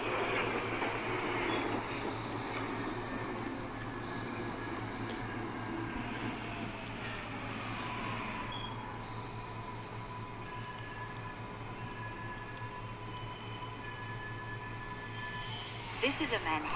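A Manhattan-bound J local subway train idles at Kosciuszko Street in Hmmsim 2, with steady rumbling and hiss, a brief rising whine, and an announcement voice over the noise.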